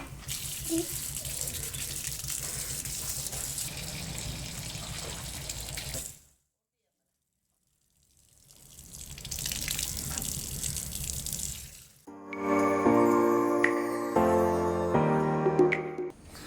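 Steady spray of water while a Hyundai Creta is washed, a continuous hiss that briefly stops and then resumes, with a voice and music-like tones in the later part.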